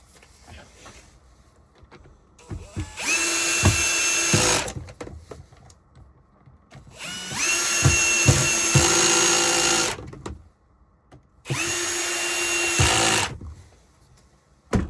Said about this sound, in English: You want to take your drill, then you just want to screw them in.